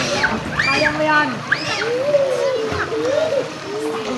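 Someone jumping into water, with splashing and sloshing heard under excited children's voices shouting and calling out nearby.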